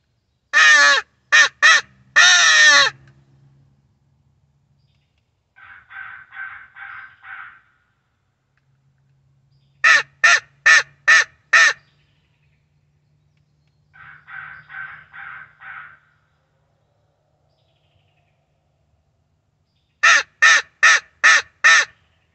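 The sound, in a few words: hand-held crow call imitating crow caws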